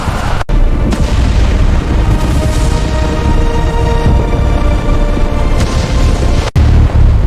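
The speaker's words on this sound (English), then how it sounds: "The explosions are getting closer!" Deep booming explosions from a simulated asteroid impact on Earth roll one after another, loud and heavy, with rumbling aftershocks filling the gaps between blasts.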